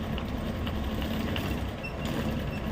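Sewing machine stitching a princess-cut three-dot blouse at a tailoring class, a steady continuous mechanical whir running throughout at moderate level.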